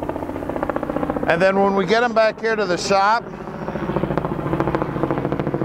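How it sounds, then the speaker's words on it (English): Helicopter passing overhead near a car dealership shop, a continuous rapid rotor chop and engine drone at moderate distance that persists throughout, largely masked in the middle by someone talking. "that's a helicopter flying overhead there."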